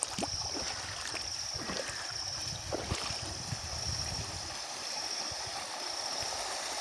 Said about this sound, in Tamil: முன்வீதிகள் முழுவதுமாக தண்ணீரிலே மூழ்கி காணப்பட்டு கொண்டிருக்கின்றது